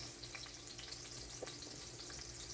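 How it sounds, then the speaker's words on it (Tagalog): Onion and garlic sauté in hot cooking oil in a pan, a steady close sizzle with faint crackles and light stirring throughout, no voices. "Painit na tayo ng mantika para igisa na natin yung mga sangkap."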